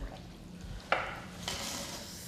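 Soft sizzling in a pan with a few clinks and stirring scrapes, low and close, no talking.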